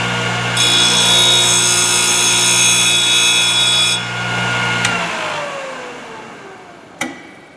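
A Thorvie AV-40 sharpening machine used on router bits and shaper cutters switches on and its grinding wheel whines steadily and loudly for several seconds, then spins down in a falling tone, with a sharp click near the end.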